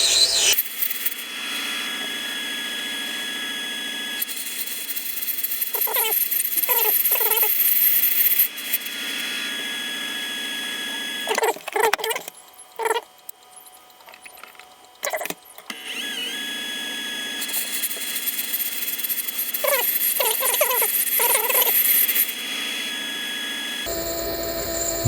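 Brass squealing as it is worked while a depthing tool is being modified: sustained high, thin tonal squeals over hissy mechanical noise, broken by scraping bursts and short pauses.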